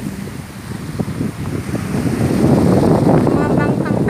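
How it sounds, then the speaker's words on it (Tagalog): Strong typhoon wind from Surigae roars steadily on an island in Surigao City, with waves churning underneath; the gusting rush is loud and close, building in force toward the end. "Malamig po. Malakas po yung hangin."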